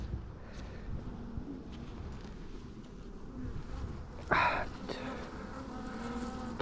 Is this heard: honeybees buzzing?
yes